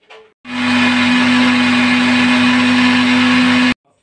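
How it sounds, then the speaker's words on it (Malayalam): A mixer grinder jar whirs loudly and steadily, blending curry paste with water for a prawn curry, a strong motor hum running for about three seconds between brief quiet moments at start and end. "നന്നായിട്ടൊന്ന് മിക്സിൻ്റെ ജാറിലൊന്ന് അടിച്ചെടുക്കാം."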